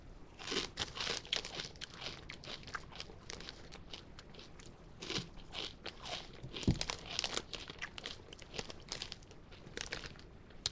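Doritos 3D Chili Cheese chips crunched up close, loud crisp bites and chewing repeating steadily throughout, with no talking.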